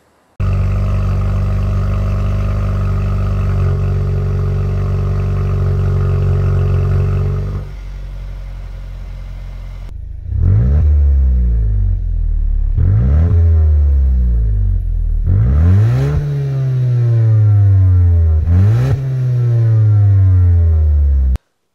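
Hyundai i30 N-Line with the 1.5 T-GDI 160 hp engine and automatic gearbox, idling steadily and then blipped four times, each rev rising sharply and falling back, loud and close with no talk.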